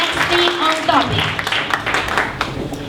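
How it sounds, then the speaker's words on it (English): Applause from a Startup Weekend audience, a moderate burst of clapping heard alongside overlapping voices that continue speaking over it. "Big round of applause"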